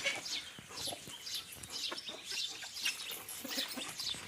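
Chickens cluck and chatter steadily, several birds close by in a yard shared with ducks, with short clucks overlapping in an uneven rhythm outdoors.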